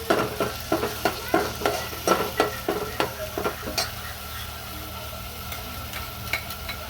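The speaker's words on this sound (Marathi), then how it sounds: "मी छान तेलात अशी परतवून घेतलेली आहे" Garlic paste sizzles in hot oil while being stirred, with a rhythmic series of close scraping strokes over a steady frying hiss that eases into a quieter sizzle.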